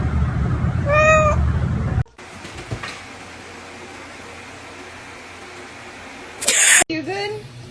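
A kitten meows a few times close up, first a clear rising call near the start, then a brief louder cry toward the end, with room hum and quiet background noise in between.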